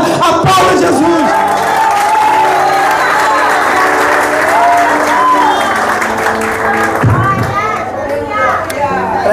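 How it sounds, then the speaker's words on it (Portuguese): Loud congregational applause during a Portuguese-language church worship service, dense clapping mixed with cheering and children's voices, continuing for several seconds with talk over it. "E se você crê nessa promessa, aplauda Jesus."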